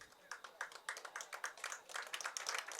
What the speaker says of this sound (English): Our parents are coming together and clapping for their children